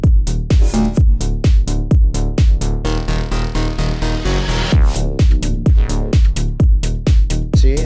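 Electronic music track hitting its drop with a custom drop noise effect, punchy kicks pulsing steadily under dense full-range synths and a swelling riser-like sweep midway, loud and continuous.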